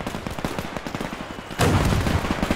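Mortar and battle gunfire in the WWII strategy game Men of War II, dense rapid shots and blasts, with a louder, heavier burst of explosions about halfway through.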